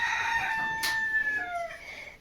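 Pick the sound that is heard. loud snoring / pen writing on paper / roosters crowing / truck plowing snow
roosters crowing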